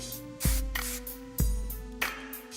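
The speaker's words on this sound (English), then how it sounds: "I'm going to use some air control and spray that in" Aveda Air Control hairspray sprayed onto curled hair in three short, close hisses spaced about a second apart, over a faint steady hum.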